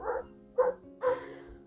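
A dog barks in a garden, three separate woofs spaced about half a second apart, fairly close and clear, with no talking over them.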